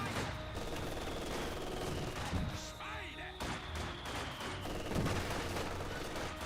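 A 120 millimeter mortar fires in Company of Heroes 2 as a smoke barrage falls on a victory point. It sits within a dense, continuous wash of gunfire and booming impacts across a busy battlefield.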